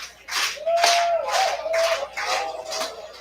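Baseball crowd at a Medicine Hat Mavericks versus Brooks Bombers game, rhythmic bursts of clapping and cheering in a repeating pattern, with a sustained whistle or horn tone running underneath.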